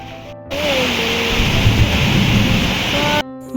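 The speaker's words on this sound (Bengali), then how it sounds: "বলতে না বলতেই বৃষ্টি শুরু" Steady broad hiss of rain beginning on a dark afternoon, loud and continuous for about three seconds and then cutting off abruptly, with no talk.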